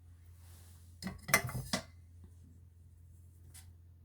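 A metal cooking pot being lifted and moved in a quiet room, a short cluster of close clanks and scrapes lasting under a second, then one faint knock after a pause.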